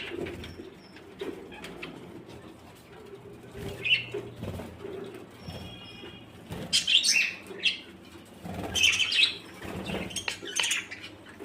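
Pet budgies at feeding time, close chirps and tweets in several bursts, with soft wing flaps and pecking noises against a low steady background.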